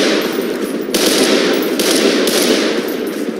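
Rapid automatic gunfire in the video game Garry's Mod, loud and close, with sustained bursts broken by brief gaps, alone with no talk.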